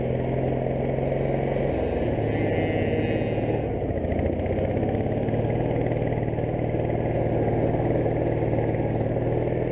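An off-road tractor engine labors up a steep gravel pit hill at Walker Valley, a steady, loud mid-pitched drone that drops slightly in pitch around two seconds in and then holds continuously, with no talking.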